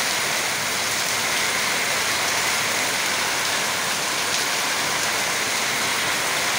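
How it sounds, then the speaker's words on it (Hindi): Heavy rain pours down outside in a sunny daytime downpour, a dense, constant roar of water hitting surfaces, loud and close with no breaks or voices. "इतना तेज़ बाहर बारिश हो रहा है"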